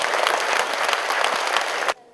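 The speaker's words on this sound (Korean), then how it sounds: "다시 한번 여러분께 박수를 드립니다." A crowd at a Buddhist temple service for Buddha's Birthday claps loudly in a dense burst of applause for about two seconds, then it cuts off abruptly to near silence.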